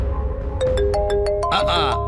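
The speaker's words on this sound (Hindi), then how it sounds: "फोन भी बजने लगा" A phone ringtone chimes through a run of bright, evenly spaced electronic beeps that swell into a fuller melody, heard over low background sound with voices speaking.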